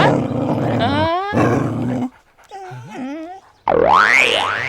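Loud, exaggerated growling from a single dog in a comedy film scene comes in wavering, pitch-sliding bursts. It is separated by short gaps, with a rising, swooping snarl at the end.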